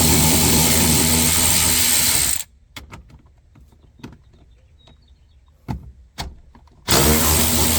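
A ratcheting 10mm socket backs out tie-down bolts in a vehicle cargo area, loud sustained clicking runs at the start and end, with sparse isolated clicks and knocks in the quieter middle.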